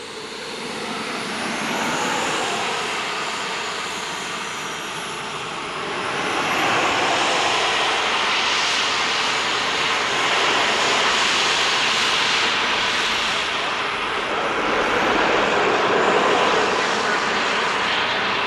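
A scale model jet aircraft, flown in the expert class at the 1999 US Scale Masters, roars steadily overhead with a loud, continuous turbine whine that swells and fades slightly as it passes.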